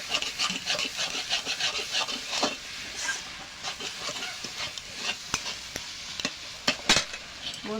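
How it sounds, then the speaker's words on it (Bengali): Shredded cabbage with turmeric is stirred and fried in a pan. A spatula scrapes and rasps in irregular bursts over a soft sizzle, close and fairly loud, with no voices. "এভাবে কপিটা অনেক সময় ভাজতে হবে।"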